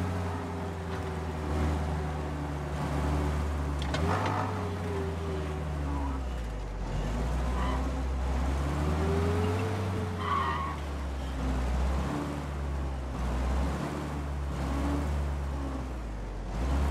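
A car driven in Mafia Definitive Edition, with a steady engine drone rising and falling through gear changes and occasional tire noise, under ongoing conversation between characters.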